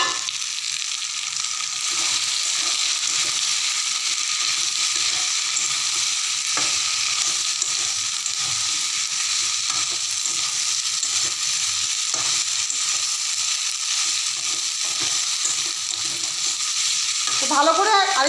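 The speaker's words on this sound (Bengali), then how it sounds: "তো এখন আমি এতে তুলে দেব এই যে ভাজা সোয়াবিন আর হালকা ভাজা আলু। আলুগুলিকে একই সাথে দিয়ে আবারও একটু কষিয়ে নেব।" Fried soybean chunks and lightly fried potatoes sizzle loudly and steadily in a pan while being stirred and sautéed, with scraping stirs throughout and a brief squeaky rattle near the end; no talking.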